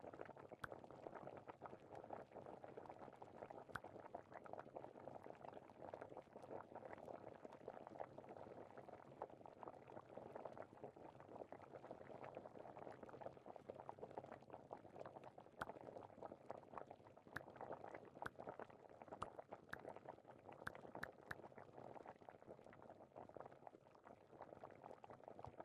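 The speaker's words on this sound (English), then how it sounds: "simmer slowly over low heat. Do not overboil. Listen to the bubbles." Liquid for tea simmers over low heat, giving a faint, steady bubbling and gentle churning that continues evenly at low volume.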